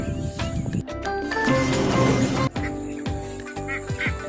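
Poultry squawk and call in a noisy chorus nearby, several birds clucking and crying over one another, with loud bursts and some background clatter.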